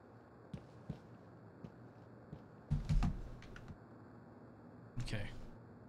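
Computer keyboard typing during a PC game stream, sparse clicks and a couple of louder clattering bursts at a steady moderate distance over a low background hum.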